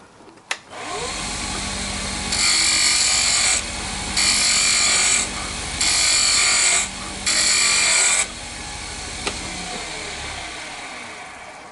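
A wood lathe turns a chess rook, a steady motor hum with four loud bursts of high, rasping cutting as the tool bites the spinning wood, then fading back to the idling motor alone.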